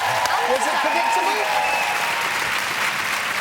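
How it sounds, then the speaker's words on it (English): A studio audience at a live ice-skating competition applauds skater Beth Tweddle, a dense, even wash of clapping that holds steady throughout with no breaks, along with some whistling and cheering. "So, round of applause, Beth."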